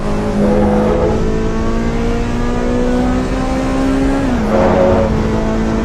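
Car engine in the Assetto Corsa Evo racing game with VTEC engagement, holding a steady, muffled drone that climbs gradually in pitch, dips briefly near the end, then rises again, heard alone without talk.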